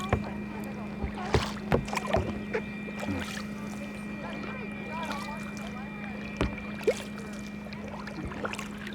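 Kayak paddling on water near Ketchikan, Alaska: faint intermittent paddle splashes and knocks over a steady hum and light wind, with people talking quietly in the background.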